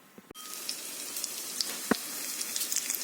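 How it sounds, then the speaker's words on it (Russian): Syrniki, cottage cheese pancakes, frying in a pan with a steady close sizzle and occasional sharp pops and crackles, with no voices. "Обжариваем с обеих сторон и выкладываем на противень"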